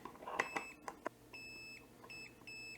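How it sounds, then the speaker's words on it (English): A multimeter in continuity mode beeps as its probes touch connector pins, with a few soft clicks of probing followed by several short, clear tonal beeps in a quiet room. "So we're doing beep test mode."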